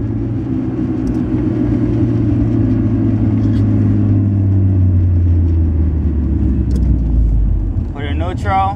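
A manual five-speed car slows for a light, its engine rumble dropping steadily in pitch as it brakes and downshifts, loud and close throughout, with a brief burst of talk near the end.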